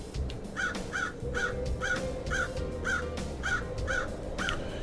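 Crows caw steadily in the video game Paradise Killer, about eight harsh calls in an even rhythm, fairly close and loud over a low ambient background hum.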